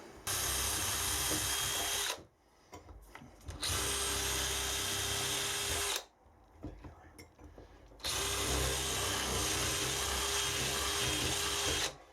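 A power drill with a 3 to 3.5mm wood bit whines loudly drilling wood in long continuous bursts, stopping twice for brief pauses with faint rattling before starting again.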